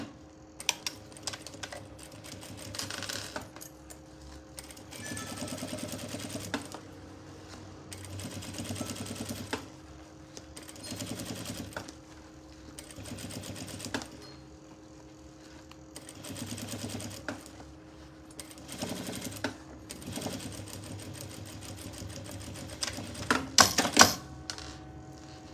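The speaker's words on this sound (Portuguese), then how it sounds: "Agora eu vou vir e vou fazer um pesponto em toda a lateral aqui." A sewing machine topstitches along the side of a fabric pencil case in repeated bursts of rapid, steady stitching separated by short pauses, close and moderately loud.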